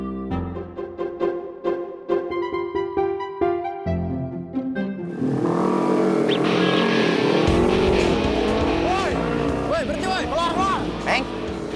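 Motorcycle engines of a gang rev loudly nearby, throaty revs swelling and rising in pitch over several seconds; voices and music are heard at the start.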